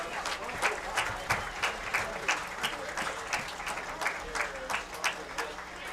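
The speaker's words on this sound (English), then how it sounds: "Join me in a big round of applause for Greg Hole and team at Wahoo State Bank" Crowd applause for the Wahoo State Bank sponsors at a Wahoo high school homecoming football game against Aurora; scattered, rhythmic clapping at moderate distance with voices mixed in.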